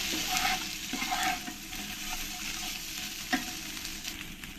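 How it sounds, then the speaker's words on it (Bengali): Taro (kochur mukhi) stir-fried with spices in a pan gives a steady, close crackling sizzle broken by scraping stirs and a sharp clink about three seconds in. "একটু কচুর মুখিটাকে একটু একসঙ্গে ভেজে নেব মশলার সঙ্গে"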